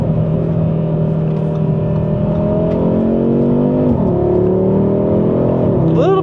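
Audi RS3 accelerating from inside the cabin, a loud steady engine drone with smooth rising pitch, easing off around four seconds and climbing again with a brief lift near the end, with slight turbo lag.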